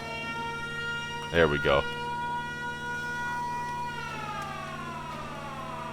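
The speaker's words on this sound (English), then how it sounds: "That siren." A machine warning siren in the industrial video game Giant Machines 2017 wails steadily, its pitch swelling upward toward the end, while someone speaks briefly over it.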